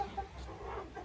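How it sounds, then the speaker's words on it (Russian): Moulting hens cluck in their feathered coop enclosure, a few short close clucks and murmurs over low background noise. "Вот мои куры."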